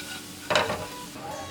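Purple onion frying in a pan while being stirred, a soft steady sizzle with one brief louder scrape of the utensil against the pan in the middle, no voices.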